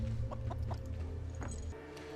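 A chicken clucks in a scene from the Fallout series, with several short clucks in an uneven rhythm over a steady low background hum, moderately close.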